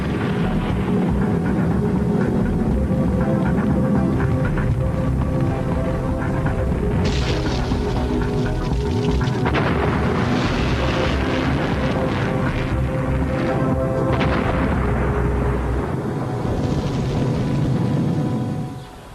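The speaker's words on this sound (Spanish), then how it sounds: "Y si mientras se producían explosiones, tocaba aprender de ellas." Soviet N1 moon rocket test explosions: a continuous heavy roar with deep rumbling booms and broadband blasts that surge around the middle, loud and sustained throughout before easing off at the end.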